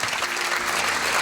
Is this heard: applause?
yes